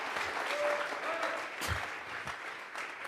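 A church congregation applauds during a Tuesday Bible study service, a steady wash of clapping hands from a crowd in a room, with brief voices and a thump partway through.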